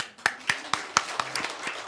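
Scattered clapping from a small church congregation for its elders, a few distinct sharp claps at a steady beat, close and sparse rather than a full round of applause.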